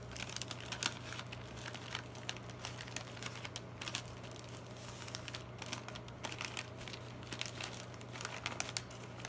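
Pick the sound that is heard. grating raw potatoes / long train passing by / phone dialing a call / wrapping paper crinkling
wrapping paper crinkling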